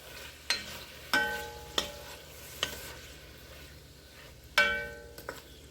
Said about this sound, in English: About a teaspoon of black pepper. And go ahead and stir that in.